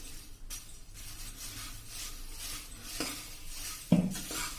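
Puffed rice roasts in a pan with light rustling and scraping as it is stirred, ending in a sharper metallic clink of utensil on pan, close and without speech.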